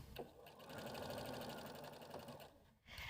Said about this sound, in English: I'm going to take it to the machine and sew both of those strips on